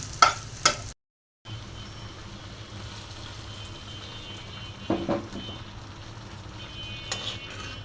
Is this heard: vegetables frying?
yes